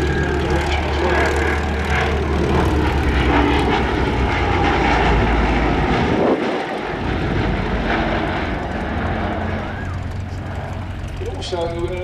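Bristol Blenheim bomber engines droning steadily at an evening air display, a loud continuous piston-engine roar throughout with a commentator talking over it.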